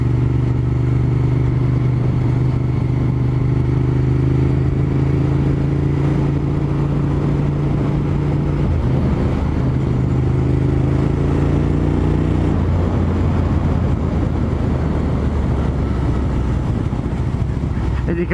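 A motorcycle engine idles and revs through an aftermarket exhaust, loud and close with steady low rumble, a brief dip mid-way, then rising throttle with wind noise over the microphone.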